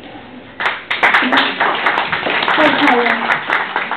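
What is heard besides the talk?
audience applause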